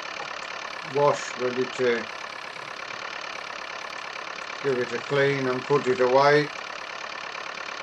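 A farm tractor engine idles with a steady, low rumbling drone throughout, while someone talks over it in a few short bursts.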